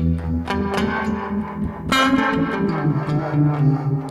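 Guitar played through a Fender Tre-Verb pedal set to harmonic tremolo with amp-style reverb, ringing chords pulsing with a wavering, phasey throb, loud and close with no talking.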